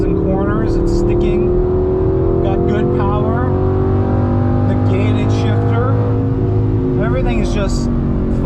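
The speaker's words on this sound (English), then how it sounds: "The sound of the motor. That screaming V8." Loud V8 engine of an Audi R8 sports car on a race track, sustained roar with rising and falling revs through shifts, with a person talking over it throughout.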